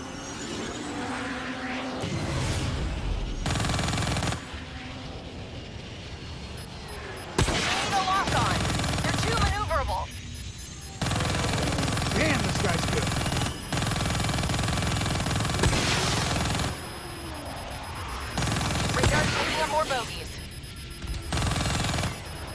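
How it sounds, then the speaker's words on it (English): Gunfire from ground units in Call of Duty Black Ops 3 crackles in repeated bursts beneath a loud, constant roar of engines and battle noise, dense and close throughout. "Watch for fire from those ground units."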